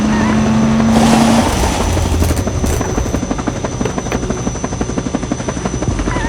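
A helicopter's rotor thumps in a rapid, steady rhythm, loud and close, with a constant engine whine over it.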